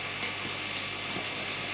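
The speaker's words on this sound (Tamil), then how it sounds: "வெங்காயம் பார்த்தீங்கன்னா நல்லா வதங்கணும்." Onions frying in a pan, a steady broadband sizzle with faint crackles, continuous and moderately loud throughout.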